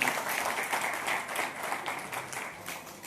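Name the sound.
audience applause, loud clapping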